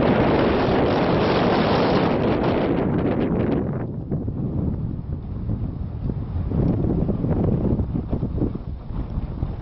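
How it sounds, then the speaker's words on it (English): Strong wind blasts across open ice, roaring loud and close with heavy gusty buffeting on the microphone, easing a little midway before building again; no voices. "The wind is not letting up."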